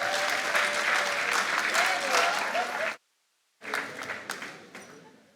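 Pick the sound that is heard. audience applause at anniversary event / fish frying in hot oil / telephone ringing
audience applause at anniversary event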